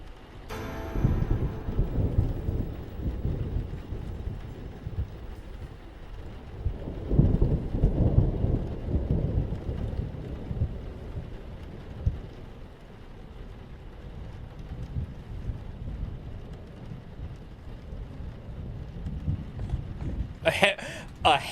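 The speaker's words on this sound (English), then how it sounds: "A heavy temporal storm." Heavy temporal storm in the Vintage Story video game, with low rolling thunder rumbles and steady rain-like noise throughout, a stronger swell partway in and sharp crackles near the end, with a voice talking over it.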